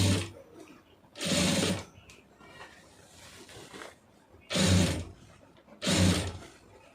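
Sewing machine stitching piping onto a churidar, running in three loud bursts of a couple of seconds each, separated by quieter pauses where the fabric is adjusted, with no talking.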